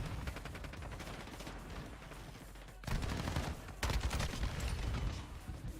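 Point-blank gunfire in Modern Warfare 2, a steady stream of rapid shots with louder, heavier blasts in the second half; no one talks.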